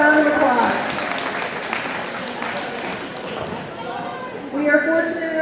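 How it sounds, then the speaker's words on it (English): Applause from the crowd at a county senior celebration rises in the middle, a broad patter of clapping, with someone talking over it at the start and again at the end. "Please give them a round of applause"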